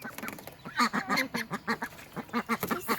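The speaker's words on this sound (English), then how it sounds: "Happy duckies." Ducks give rapid, honking quacks in short pulsing bursts, close and fairly loud, with no talking.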